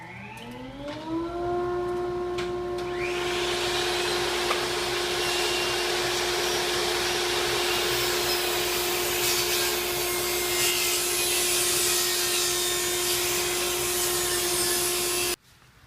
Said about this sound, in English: So I'm going to now turn on my dust collector and my saw and begin.